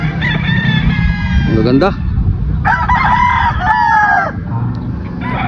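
Several roosters crowing loudly nearby, overlapping calls with some clucking, while someone speaks over them briefly.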